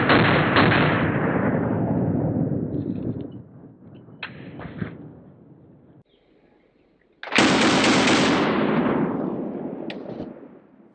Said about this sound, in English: 20-inch barrel is provided by our Colt light machine gun here, and we're gonna get it going